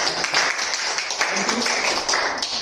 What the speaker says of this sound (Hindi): तो इन सब के लिए जोरदार तालियां एक बार।